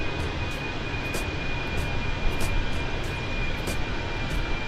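An Airbus A320 airliner on an Air France flight from Paris to Naples cruises with a steady, loud engine drone and cabin rumble, heard from inside the aircraft without pause.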